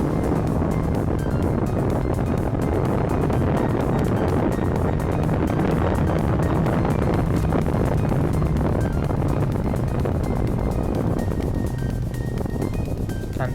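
A formula single-seater racing car's engine drones at Silverstone, loud and close from onboard, a sustained roar mixed with heavy wind rush that holds steady for the whole stretch.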